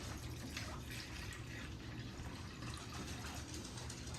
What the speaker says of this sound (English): So we'll add more water.